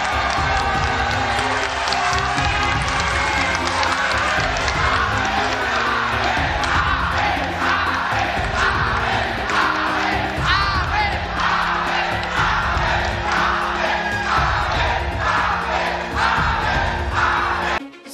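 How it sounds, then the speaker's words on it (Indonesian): Loud, dense crowd cheering and whooping with applause at an Indonesian political rally for presidential candidate Anies Baswedan and running mate Muhaimin Iskandar, sustained without a break for about eighteen seconds. "Kita berdiri memberikan aplaus kepada mereka berdua"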